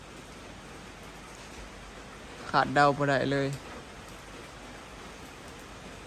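Heavy rain falls late at night in a steady, even hiss that runs throughout, while someone speaks briefly over it partway through.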